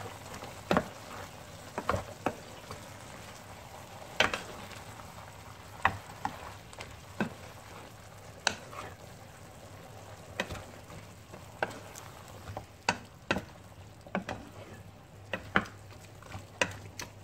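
Turkish style veggies and beef frying in a pan, a soft continuous sizzle beneath repeated sharp clicks and scrapes of a utensil being stirred through the food at an uneven pace.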